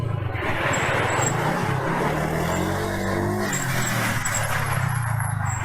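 Car traffic rumbles steadily at close range, a low continuous engine drone with one vehicle passing or revving midway and faint high chirps above.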